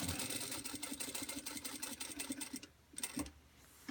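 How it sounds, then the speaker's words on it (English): A sewing machine stitches across a fabric bag strap, running in a steady rapid chatter of needle strokes for over two seconds before stopping, then giving a brief second burst. "Stitch till you get across to the opposite side of your strap"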